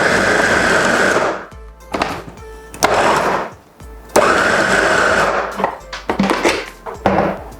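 A fufu machine motor mixes plantain and cassava, running in loud whirring bursts that stop and restart, with thumps and rattles between the runs.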